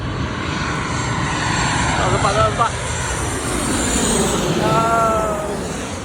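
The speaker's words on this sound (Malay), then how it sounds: "Tinggal tengok kapal terbang dulu dekat sini runway." An airplane engine drones steadily nearby, rising and swelling as it passes near a runway, with people talking over the roar.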